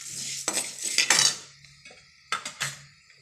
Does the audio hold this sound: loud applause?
no